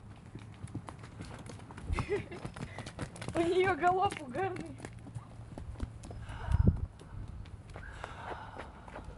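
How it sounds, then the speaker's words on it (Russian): Horses ridden along a street pass by, their hooves clip-clopping faintly in an uneven rhythm under conversation between people nearby. "Ой, какие у нас тут лошади ездят."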